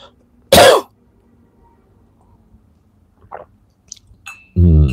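A single harsh cough from a man with flu bursts out near the microphone, followed by quiet shuffling and small clicks, then another loud throaty burst at the end.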